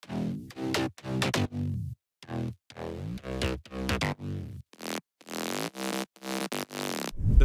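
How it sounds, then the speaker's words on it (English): Synth bass layers from a Serum sound bank for a future house track, a series of short, punchy notes in bursts of bright, buzzy tone, ending with longer sustained tones. "So all the bass layers are from my Serum sound bank"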